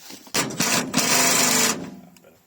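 Power tool working on the bolts of a tailgate on a Mitsubishi Triton: one loud, close burst of rapid buzzing and rattling lasting about a second and a half, then fading out, with no talking.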